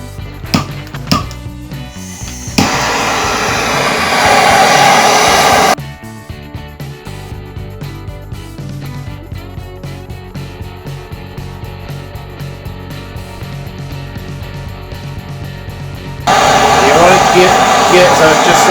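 Gas torch from Bunnings heating a cold chisel while an old gate is rebuilt, a loud close roaring hiss in bursts, with clanks and knocks around it.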